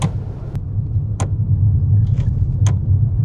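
A high-mileage 2004 Mercedes S-Class drives along with a steady, close low engine and road rumble, broken by a few brief sharp ticks, and no one speaks.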